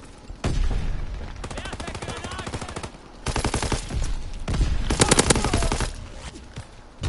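Rapid automatic gunfire from a Call of Duty match, long rattling bursts of closely spaced shots that break off and resume several times, loud and near, with no talk.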